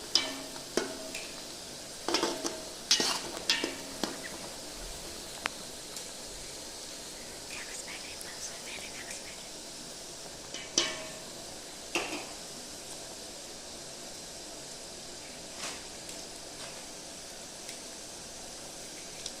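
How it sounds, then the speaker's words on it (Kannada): Onions are stirred and fried in oil for green chicken sukkha, with a faint sizzle under soft scraping and clinks of a spoon against the pan, recorded close with intermittent taps. "ಈರುಳ್ಳಿಗಳು ಕೆಂಪಾಗುವವರೆಗೂ ಅದನ್ನು ಎಣ್ಣೆಯಲ್ಲಿ ಮಿಕ್ಸ್ ಮಾಡ್ತಾನೆ ಇರಬೇಕು."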